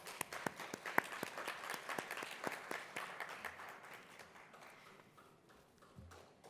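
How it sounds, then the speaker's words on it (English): Applause for the final panelists at an education conference in Dubai, scattered claps with a few sharp nearby hits, thinning and fading toward the end. "Let's give our last panelists another round of applause."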